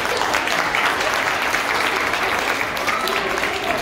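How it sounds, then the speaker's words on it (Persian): Audience applause fills a Rubik's cube competition hall, a steady dense clapping from a crowd that holds at an even level throughout with no pauses. "لطفا تشویقشون کنید"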